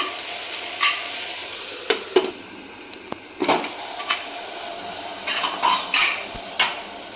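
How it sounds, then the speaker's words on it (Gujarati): Spices fry and sizzle in a pan over a high gas flame for a vegetable gravy of sprouted chickpeas, mung and moth beans, with a steady hiss broken by sharp scrapes and clinks as they are stirred. "અત્યારે આપણે ગેસની ફ્લેમ હાઈ કરી છે થોડીક વાર આમાં આપણે મસાલો બધો ચડવા દઈશું"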